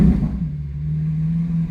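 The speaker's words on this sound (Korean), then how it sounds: "악셀을 한번 밟아보도록 하겠습니다." A cold Lamborghini Aventador S engine gets a light press of the accelerator, giving a deep, close rumbling idle with a brief swell at the start and a slight lift near the end.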